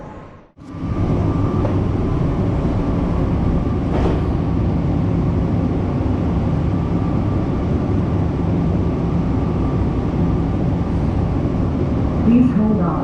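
A light rail train runs steadily from the inside, a continuous low rumble and hum after a brief pause at the start, with a faint chime near the end.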